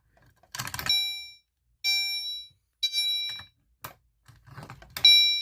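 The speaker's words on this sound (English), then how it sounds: "If I want to key activate the alarm," A Simplex fire alarm, key-activated at a double-action pull station, sounds in a series of loud, sharp electronic bursts with short silent gaps between them.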